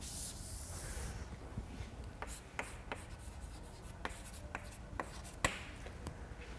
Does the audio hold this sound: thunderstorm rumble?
no